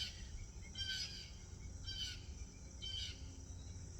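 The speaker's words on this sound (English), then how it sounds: "Listen to the birds." Three repeated bird calls come from a distance in an outdoor setting where crows are nearby, over a steady drone of insects, with no speech.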